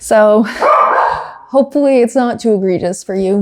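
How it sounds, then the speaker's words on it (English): A pet dog yips and barks a few times at the start, close and loud, before a person talks over the quieter remainder. "I would like to take this moment to apologize for my dog barking"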